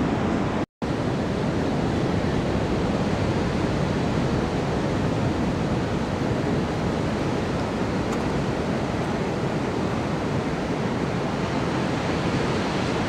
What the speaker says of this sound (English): Surf is still pretty big too